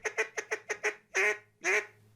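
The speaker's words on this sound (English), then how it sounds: "Neil Malasa introduced us to Dale Bordelon, a real Cajun keeping his culture alive through handmade duck calls." A handmade Cajun wooden duck call gives a run of five short quacks in steady rhythm, then two longer, drawn-out quacks, loud and close with no talking.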